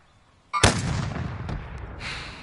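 A single loud shot rings out in an online shooter game, a sharp crack followed by a rolling, fading echo and a faint later click, with no talk over it.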